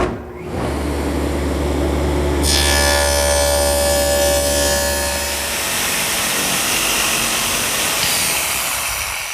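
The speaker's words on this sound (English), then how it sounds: "All of those are cut at the table saw." A table saw cuts a dado into a wooden side panel, a loud, sustained whine that rises as the blade runs through the wood and then holds steady.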